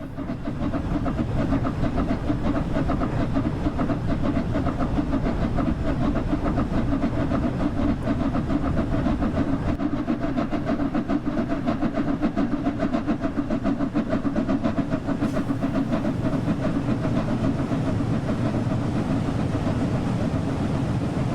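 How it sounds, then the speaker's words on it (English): Flying Scotsman steam locomotive hauling a heavy express train, slowly accelerating up a gradient in a train simulator game: a steady, dense chuffing rumble with rapid exhaust beats, continuous and close, with no voices. "She's a very heavy train, not surprised she's accelerating slowly, especially up a gradient."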